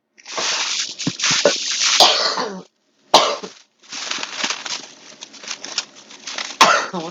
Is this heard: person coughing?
yes